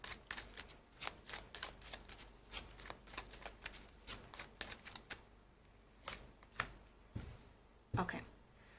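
Tarot cards being shuffled and drawn for a love reading, a steady run of crisp riffling clicks and snaps, quiet and close, with brief pauses between bursts.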